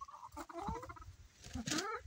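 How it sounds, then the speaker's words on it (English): Faint poultry-like calls from a duck near an Appalachian homestead, two short quacking, clucking bursts in a quiet yard with light background noise. "So I got a duck wanting to come in and get some."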